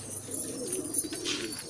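A pigeon coos softly at close range, a low murmuring call over faint background noise.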